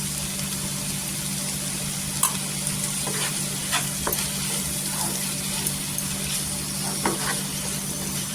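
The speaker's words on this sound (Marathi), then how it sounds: "इथे पहा पूर्णपणे 2 मिनिटं छान असं परतलेली आहे भाजी" Dhaba-style dry capsicum sabzi with roasted ground peanuts being stir-fried in a pan, a steady sizzle with intermittent spatula scrapes and clinks, no talking.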